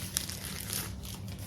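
Plastic bags crinkle and rustle while a breast pump is unboxed, a short run of close, crisp crackling bursts over a low background murmur, with no talking.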